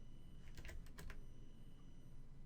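Fingers tap quickly on a computer keyboard while entering data in a spreadsheet, a short faint burst of keystrokes in the first half that then falls to quiet room hiss.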